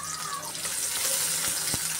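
Sliced onion hits hot oil in a wok, giving a bright, hissing sizzle that stays steady and fairly close for a couple of seconds, with a couple of soft clicks.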